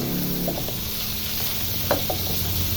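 Tomatoes hitting a hot pan give a steady, broad sizzle with a few soft knocks and scrapes from stirring, close and continuous, with no voices.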